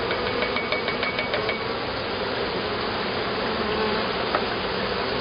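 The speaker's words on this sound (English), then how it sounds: "So we got our half a cup of bees." Honey bees packed into a half-cup sample cup during a July hive inspection buzz in a dense, steady drone, close and continuous, with a few faint clicks or taps partway through.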